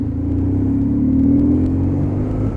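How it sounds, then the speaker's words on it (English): A BMW 1150R motorcycle with a boxer engine rides through road traffic, its low, steady engine drone and rumble continuous and close, with faint wind and road noise over it. "this is the ride test on the BMW 1150R"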